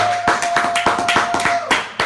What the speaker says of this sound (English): You got to clap for her.